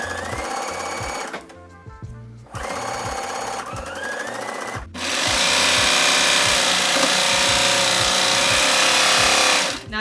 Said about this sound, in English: We're now gonna sew a straight stitch across here at 1/2 inch seam allowance.